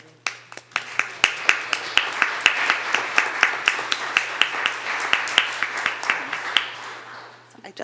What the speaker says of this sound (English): I truly applaud him and invite you to applaud him as well